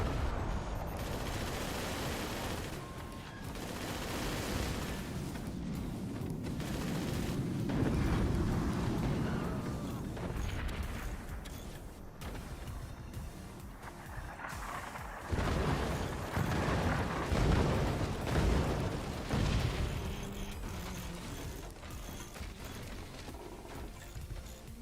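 Howitzer artillery barrages in the strategy game Forts, with repeated heavy booms and rumbling blasts piling into a dense, loud, continuous bombardment over a chaotic background.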